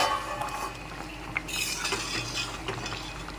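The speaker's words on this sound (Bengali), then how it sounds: "এখন ঢাকনাটা খুলে নিচ্ছি।" Metal lid lifted off a pot of boiled lentils on a gas stove, with a clinking scrape followed by stirring and soft utensil clatter, close and moderately loud with no talk.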